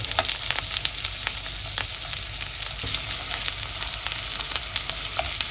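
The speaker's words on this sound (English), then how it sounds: "I'm going to add the meat. And we want to brown the meat on each side." Meat for braciole browns in a frying pan with a loud, steady sizzle and crackle that runs continuously.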